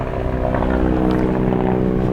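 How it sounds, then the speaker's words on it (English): A helicopter passes overhead outdoors beside a parked 1991 Nissan Silvia Turbo drift car, its steady rotor and engine drone holding loud and even for the whole short stretch, with no talking. "Helicopter overhead."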